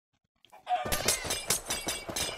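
Chickens clucking in the Minecraft video game, a run of short repeated bursts after a brief silence, fairly loud and close, with no talk over them.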